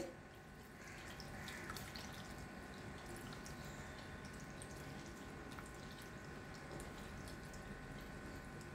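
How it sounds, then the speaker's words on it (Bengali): Cold water poured over soya chunks sitting in a strainer, a steady close splashing and trickling that runs unbroken for the whole stretch with no talk. "একটা ছাঁকনির ওপরে আমি ছেঁকে নিচ্ছি। ওপর থেকে ঠান্ডা জল দিয়ে দিই, একটু ঠান্ডা হয়ে যাবে।"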